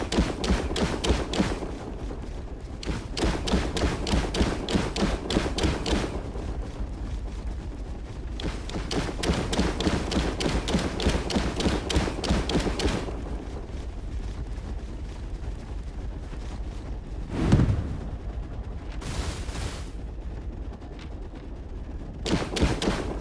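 Walker-mounted weapons in the game Last Oasis fire in long rapid rattling bursts separated by short gaps, loud and close, followed by a heavy thump and a few shorter volleys.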